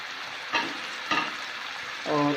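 Egg curry with khashkhas simmers and sizzles in spiced water in a pan, a steady bubbling hiss broken by two sharp stirring scrapes, with a voice briefly speaking at the end.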